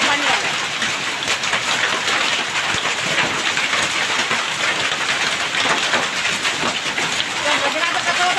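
Heavy unseasonal rain pounds down with hail, a dense, steady roar of drops drumming on surfaces throughout, with faint voices in the background.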